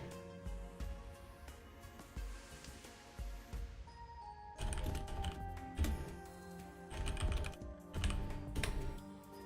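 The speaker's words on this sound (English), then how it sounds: "sorry, was just typing up a storm" Someone types on a computer keyboard during a mahjong game, quiet scattered key clicks that quicken into a denser, louder burst of rapid typing.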